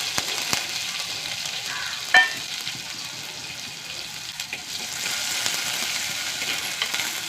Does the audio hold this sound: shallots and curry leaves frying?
yes